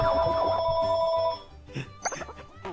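A telephone bell rings loud and near in a steady ringing burst for over a second, then stops, leaving a quieter game soundtrack underneath.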